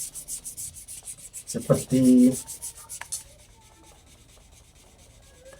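Short bursts of abrasive rubbing as metal sandpaper sands a badik knife handle, followed by quieter scraping while a person talks.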